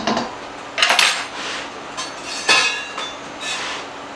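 A whisk clinks and scrapes against a pot while flour is stirred into beef gravy, giving several sharp metallic taps and rattles between quieter gaps.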